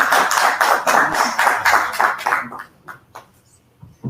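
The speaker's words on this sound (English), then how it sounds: "Can we give her a round of applause?" Audience applause at a conference day of lightning talks, a dense burst of clapping for about two and a half seconds that thins into a few scattered claps and fades.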